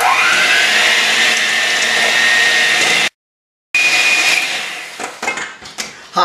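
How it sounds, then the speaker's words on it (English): An electric mixer whips eggs for a cinnamon-roll bread pudding, a steady, loud whirring drone that stops briefly, starts again, then winds down into scattered clatters and bumps. "I've got the eggs really whipped well"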